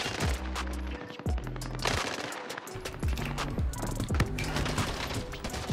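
Rapid automatic gunfire from an M16 rifle in Warzone, bursts of sharp shots with mechanical clatter running throughout, loud and close in a busy game mix.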